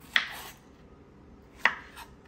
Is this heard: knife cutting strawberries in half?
yes